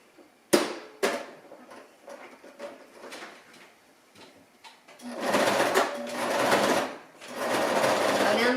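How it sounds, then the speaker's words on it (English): A sewing machine stitches a pillowcase seam, starting after a few thumps and handling noises, then running in loud continuous bursts close by with a short pause between runs. "we're going to stitch this up now"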